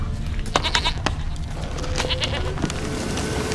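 A goat in The Witcher III bleats several times in short nasal cries, fairly close, over a continuous game ambience.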